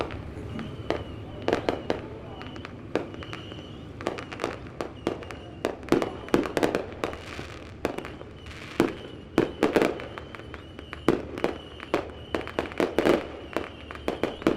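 Fireworks going off at Lebanon Midway Speedway during a memorial race night: a long series of sharp cracks and bangs at an irregular rhythm, some in quick clusters, heard from a distance.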